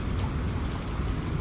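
Rain falls steadily as a sound effect in a narrated forest ghost story, a dense, even hiss of drops with no talking.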